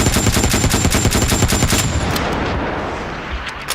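A Pancor Jackhammer automatic shotgun fires in Fallout 4, loosing a fast, loud burst of heavy booming shots for about two seconds before a rumbling echo tail fades out.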